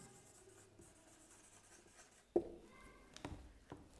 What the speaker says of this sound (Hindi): जैसे मैं एग्जाम्पल के तौर पे यहां लिख सकता हूं, राम प्लेज फुटबॉल